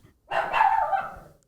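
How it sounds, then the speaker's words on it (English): A single dog bark, short and slightly muffled, sounds on its own at moderate distance in an otherwise quiet room. "What's he barking at?"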